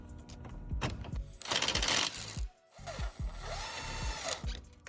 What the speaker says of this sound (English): removing the T30 torque screws that are connecting the bar to this paneling right here